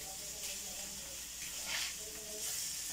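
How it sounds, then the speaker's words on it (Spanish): Ham sizzles faintly in a pan as it browns for hamburgers. A soft, steady hiss continues throughout, with a quiet voice faintly present underneath. "luego la volteo para que se dore el jamón"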